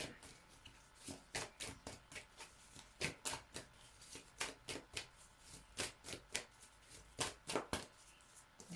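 Tarot cards being shuffled in quick repeated riffles, crisp papery flutters and snaps close by with short pauses between bursts, no talking.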